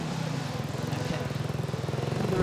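Engine revving hard at a drift show, a steady loud roar with pulsing throttle surges throughout and possible faint voices mixed into the din.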